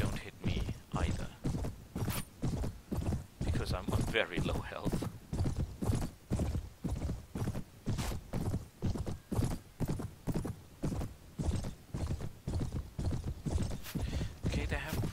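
Horse hooves clip-clopping in a steady walking rhythm in Mount & Blade, close and loud, with a neigh early on and someone talking over the hoofbeats.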